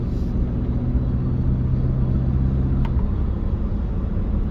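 A 2009 Chevy Silverado truck with the 5.3 engine drives along, its low engine rumble and road drone steady and fairly loud throughout.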